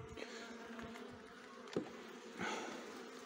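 Honeybees buzz faintly and continuously around an open hive during a colony inspection. A soft rustle and a sharp tap of handling break in partway through.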